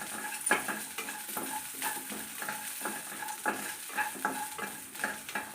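Garlic frying on a medium flame, a moderate steady sizzle with regular scraping and clinks of a spoon against the pan, near and without talking.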